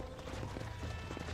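Horse hooves gallop in a rapid, steady clip-clop over rough ground in the Red Dead Redemption video game, loud and close with a busy rumble underneath.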